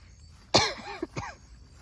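A person coughs outdoors in smoky air in a garden, one sharp loud cough followed by a couple of smaller hacking bursts, close and against quiet background.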